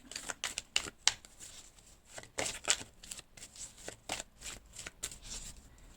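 Tarot cards are shuffled for a weekly horoscope reading, giving quick, close riffling and flicking bursts in an uneven rhythm, quiet and with no voices.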